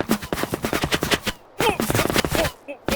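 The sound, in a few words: bullet impacts on sand in H3VR video game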